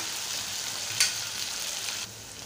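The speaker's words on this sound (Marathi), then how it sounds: "आता मी इथे पाव चमचा मीठ घालत आहे आणि असं परतून देत आहे।" Bharangi greens being sautéed with salt in a pan give a steady soft sizzle, with a brief louder scrape of stirring partway through before the frying settles back down.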